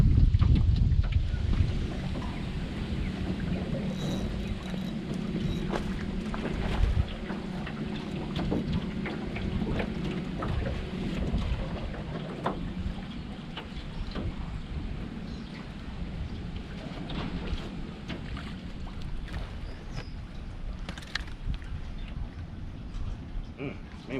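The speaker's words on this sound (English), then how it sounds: "It's tough to fight that wind." Wind gusting steadily across an open boat on Lake of the Woods while fishing, a broad rumbling roar buffeting the microphone throughout, with occasional knocks and water sounds close by.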